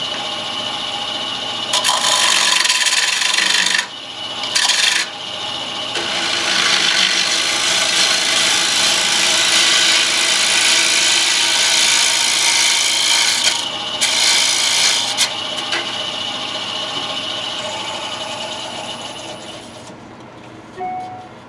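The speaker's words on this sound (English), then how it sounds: "I'm rubbing that bevel right along the bottom." A wood lathe gouge rubs its bevel along the bottom of a thin-wall bowl, giving a loud, continuous rasping scrape that stops and restarts in short breaks before trailing off near the end.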